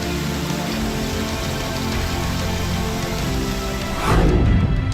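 Continuous heavy rain falling over flooded streets and homes in Uttar Pradesh, a dense, steady hiss of drops on surfaces that swells louder near the end.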